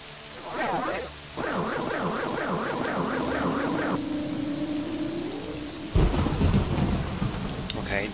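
Steady rain patters with a rumble of thunder in the video game Morrowind, overlaid by warbling electronic tones and a sudden louder burst of rain near the end.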